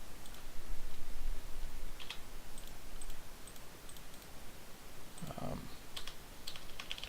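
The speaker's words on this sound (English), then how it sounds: "I'm actually pressing the keys on my keyboard right now" Computer keyboard keys are pressed in a quiet room, a few sparse, soft clicks and taps at close range over low background hiss, with no talking.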